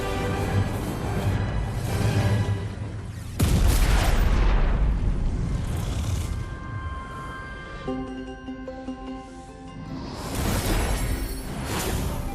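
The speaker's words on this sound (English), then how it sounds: "Complete and total explosion." Explosion in the video game Skylanders: Trap Team, a broad booming burst near the middle amid whooshing effects and chiming game music, with a second bright burst late on.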